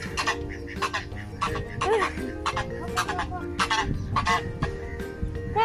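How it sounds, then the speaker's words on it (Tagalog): Chickens clucking and squawking in short repeated bursts, close by, at a campground in Ras Al Khaimah, with people talking intermittently among the calls. "Chicken."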